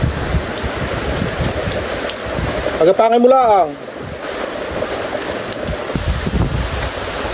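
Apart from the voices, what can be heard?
rain falling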